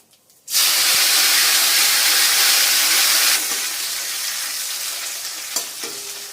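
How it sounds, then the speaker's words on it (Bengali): Papaya pieces drop into a hot pan of oil with dried red chillies and nigella seeds, bursting into a loud sizzling hiss that eases slightly and keeps crackling, with no speech. "এরকম হালকা পেঁপেটা ভাজা করে নেওয়ার পরে কাঁচা লঙ্কাটা দিয়ে দেবো"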